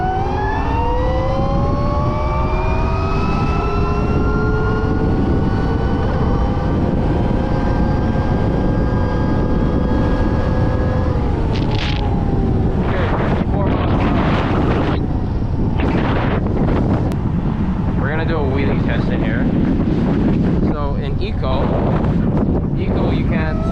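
Freego Nova 5 electric dirt bike during a speed test, its motor whine rising steadily in pitch as it accelerates, then giving way to heavy wind buffeting and rushing noise, with some talking mixed in.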